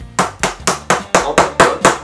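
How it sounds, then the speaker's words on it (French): A hammer taps a thin screwdriver to drive a pin out of a Cyma CM350 airsoft shotgun, eight sharp evenly spaced metallic knocks, loud and close. "on prend un tournevis assez fin, on prend un marteau ou quelque chose qui fasse office de marteau"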